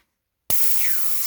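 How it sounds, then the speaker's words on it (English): Air hisses out of a Presta valve on a bicycle inner tube in one steady, close burst after a moment of silence, then cuts off abruptly. "So we're getting the air out."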